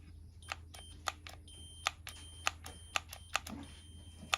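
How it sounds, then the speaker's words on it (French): Continuity tester on a welder torch trigger beeps in short, sharp, evenly spaced pips, about a dozen in a few seconds, clear over a quiet hum. "Et on a bien le bip bip."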